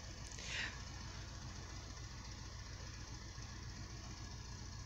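A tractor engine runs at a low, steady idle, heard faint and somewhat distant, with a brief hiss near the start and no voices.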